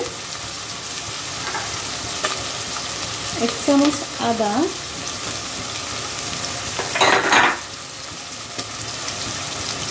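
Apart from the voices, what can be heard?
chicken frying and being stirred in pan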